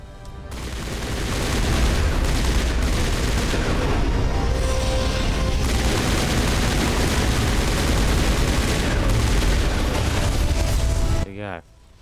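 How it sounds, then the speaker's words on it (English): Sustained machine gun fire in the video game Mass Effect, dense loud rattling bursts with booming impacts that hold for about ten seconds before cutting off abruptly. "Machine gun it."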